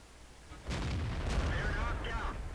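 A tank cannon fires a gold shell in a tank video game: a single sudden heavy boom that rolls into a loud, sustained low rumble lasting a couple of seconds.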